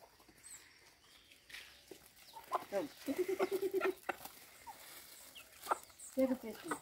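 Older farm hens cluck in quick rhythmic bursts at dawn, close and fairly quiet, with brief pauses between short runs of calls.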